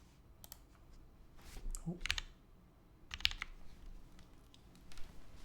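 Keystrokes on a mechanical keyboard with GMK Mictlan keycaps, TX switch film, 62 g TX long springs, no foam and a hot-swap PCB, sounding as a few scattered clusters of close, crisp clicks over quiet background hum.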